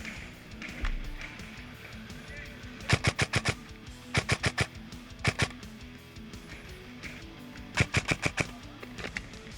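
Airsoft gunfire during a village assault, heard as quick rapid-fire bursts of sharp cracks, some clustered in tight strings of four or five shots, at moderate distance over outdoor ambience.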